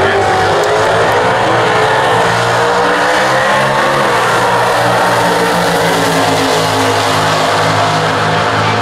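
A Stock Eliminator drag racing car with a 426 Hemi engine and a single four-barrel carburetor accelerates at a national drag racing event, a loud, continuous engine roar with rising, sweeping harmonic tones.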